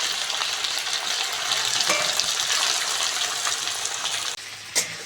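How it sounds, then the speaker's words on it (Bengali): Potatoes fry in hot oil with a dense, continuous sizzle, loud and close, which drops away abruptly near the end, leaving a brief clatter. "আলুগুলো ভালো করে ভেজে নেব"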